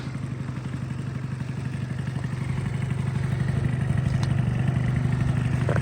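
A Honda Dio AF-35 scooter from Japan runs at a steady idle. The near, continuous low engine putter with a light mechanical clatter swells slightly louder toward the end.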